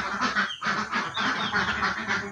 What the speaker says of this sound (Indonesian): Bebek ada di kandang.